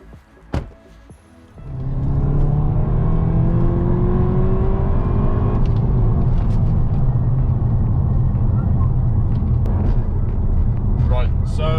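A Seat Leon Cupra 280 is floored to full throttle from a standstill, the engine note surging and climbing steadily after a brief quiet start, loud and close inside the car, with a gear change partway through.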